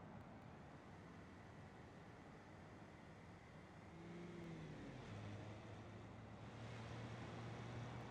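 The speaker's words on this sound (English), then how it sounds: "Rotary engine idle." A rotary engine idles with a steady low drone, joined midway by a faint rising whine as it settles into a slightly louder, even hum near the end.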